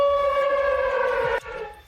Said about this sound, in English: Mezhova greets us with the sound of a siren, signaling yet another air raid alert.